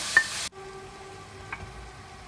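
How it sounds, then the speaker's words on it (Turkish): Vegetables, including eggplant, sautéing in two spoons of olive oil with plenty of spices give a brief loud sizzle that cuts off abruptly, leaving a low steady hum. "Tüm sebzeleri 2 kaşık zeytinyağı ve bol baharatla kavurdum."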